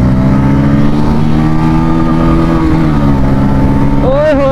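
Loud, sustained engine whine from Bajaj Pulsar N150 and TVS Raider 125 motorcycles in a drag race, with pitch rising as they accelerate. A sharp rev climbs at the end, and a voice is faintly mixed in.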